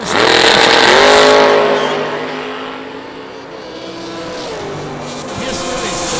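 A 1969 Camaro drag race car at the IHRA World Finals roars loudly, its engine revving hard and then fading before climbing again, with a commentator's voice over it.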